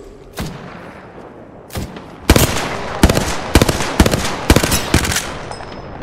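Bursts of gunfire in the video game Apex Legends during a ranked Platinum match, a couple of isolated shots followed by loud rapid volleys of sharp cracks, close and clear with no talking.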